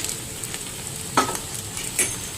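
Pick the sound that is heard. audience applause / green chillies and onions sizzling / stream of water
green chillies and onions sizzling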